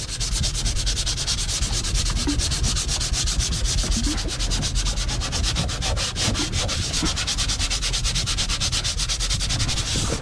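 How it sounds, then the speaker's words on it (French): Steady, continuous abrasive rasp of a sanding machine working inside a boat, loud and close with a uniform texture throughout and no voices. "aujourd'hui, ça va être journée ponçage"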